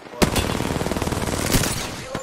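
Gunfire during an Apex Legends video game match, a loud rapid automatic burst that begins with a sharp crack and rattles on steadily for about two seconds, with a second heavy shot partway through, close and alone.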